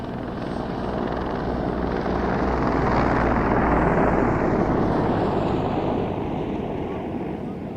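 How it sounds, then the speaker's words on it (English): A Sikorsky CH-53G heavy transport helicopter of the German army aviation flies past at an airshow, its loud, steady rotor thump and turbine roar swelling to a peak mid-pass and then easing slightly, with wind buffeting. "a Sikorsky CH-53G from the Heeresflieger, the German army aviation."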